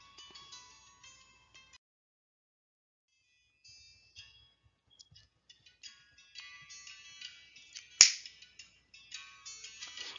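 A single sharp finger snap during a classroom phonics lesson, landing crisply over soft chiming tones and near the listener.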